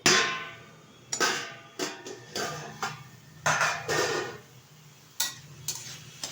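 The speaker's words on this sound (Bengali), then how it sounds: "ঢাকনাটা তুলে দিচ্ছি" A lid comes off a pan of frying mustard greens with a few sharp metallic clinks and knocks, spaced unevenly over a quiet, faintly sizzling background.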